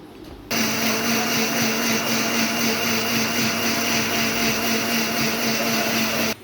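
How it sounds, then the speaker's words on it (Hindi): An electric grinder runs at full speed, blending firni ingredients with green cardamom. It starts abruptly, holds a loud, steady, high-pitched whine with a droning hum for about six seconds, then cuts off. "अब इन सारी चीज़ों को हम ग्राइंड कर लेंगे।"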